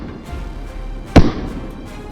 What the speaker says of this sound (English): a furious round of gunfire erupted, relentlessly pursuing each one.